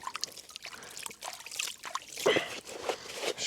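Water trickles and pours steadily at a riverbank during a fishing trip as a container is filled, with faint splashes and sloshes close by.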